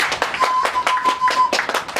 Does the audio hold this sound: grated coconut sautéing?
no